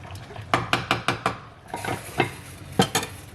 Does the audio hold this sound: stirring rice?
yes